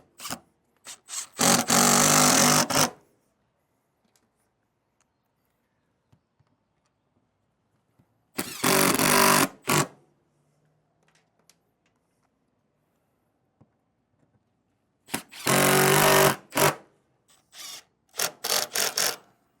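A power drill bores holes for black, non-self-tapping screws while a telescoping hand rail goes onto a 2017 Jayco Eagle RV, sounding in three loud, close whirring bursts of a few seconds each, with silence between them.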